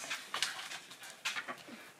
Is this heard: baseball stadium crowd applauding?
no